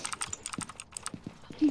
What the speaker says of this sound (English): There's keyboard noises.